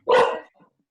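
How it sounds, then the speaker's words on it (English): A single sharp dog bark rings out close and loud, followed by a faint, brief trailing yip, with no talking around it. "I just heard a dog barking."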